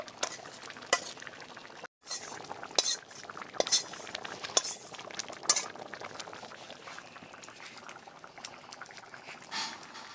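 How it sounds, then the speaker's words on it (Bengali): A heavy pot of vegetable khichuri bubbling on the stove while a spoon stirs it, with scattered metallic clinks and scrapes over a soft simmering background and a brief dropout near the start. "এক কড়া খিচুড়ি হয়েছে, নাড়তে একটু অসুবিধা হচ্ছে, খুব সাবধানে নেড়ে নিচ্ছি"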